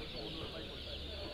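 Kadaknath chickens clucking at a poultry farm display at an agricultural fair, a steady dense mix of fowl calls and crowd noise with no clear single bird standing out.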